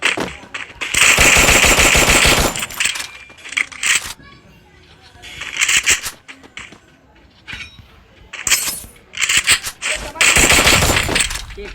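Gunfire in a squad-versus-squad battle royale game plays as loud bursts of rapid automatic shots in several volleys, with a young player talking between and over the shooting.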